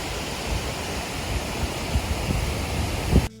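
A waterfall near Kirkjufell on Iceland's Snæfellsnes Peninsula roars as a constant broadband rush of falling water with wind buffeting, steady and fairly loud, cutting off abruptly at the end.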